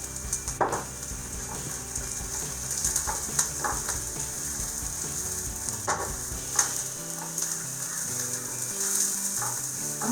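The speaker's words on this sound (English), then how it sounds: "I'm going to add shredded carrots." Shredded carrots and garlic fry in a pan with a steady sizzle, broken by scattered clinks and scraping of a utensil stirring, moderately loud and close, with no talking.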